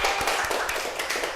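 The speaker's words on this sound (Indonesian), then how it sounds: "Baik, tepuk tangan nih." Brief burst of clapping from a classroom of students during a microteaching lesson, a quick run of close, sharp hand claps lasting about a second.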